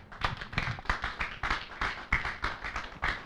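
A church congregation claps together in a steady, quick rhythm, about three sharp claps per second, sustained and even throughout.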